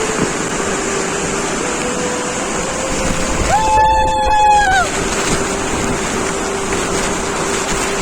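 Steady broadband rush of a large waterfall at Gharpi, Sawantwadi, continuous and fairly loud throughout, with a brief whistle-like tone rising over the water noise in the middle.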